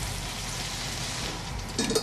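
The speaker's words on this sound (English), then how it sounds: "this cornmeal batter and the whole frying process" Steady hiss and crackle of cornmeal-battered food frying in hot oil, New Orleans style, continuous and fairly close, with a brief clatter near the end.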